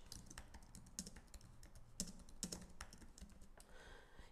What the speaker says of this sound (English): Type in a subject line and then type in your message.